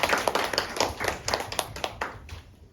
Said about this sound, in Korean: 우리 앞에 나와서 발표해준 의연이에게 박수